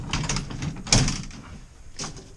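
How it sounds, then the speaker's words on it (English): Old hand-operated lift doors in a hotel are pushed shut, a firm close thud in the middle, then a lighter knock from a second door, heard close with no speech. "The one where you've got to manually open and close the doors."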